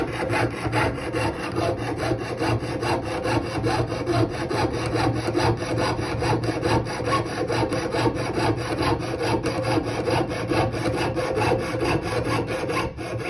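Steady, rhythmic rasping of a jeweler's saw cutting through metal, continuous strokes at an even pace, close up with no talking.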